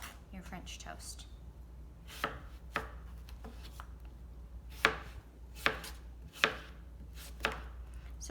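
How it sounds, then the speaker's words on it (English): A knife slices apples on a cutting board for caramel apple French toast, giving a run of sharp, irregular chops that grow more distinct toward the end, close and clear over a low background hum. "And then you can slice it."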